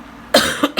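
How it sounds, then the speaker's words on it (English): A single sharp cough right beside the mic, a brief burst followed by one or two smaller cough-like catches, at a nail tech's polygel workstation, with no talk during it. "Coughed in my hand."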